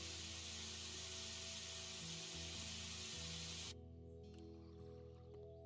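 Spray tool in the video game House Flipper, used to spray down a garden: a steady, bright hiss that cuts off abruptly partway through, leaving a quieter tonal game background, no talk.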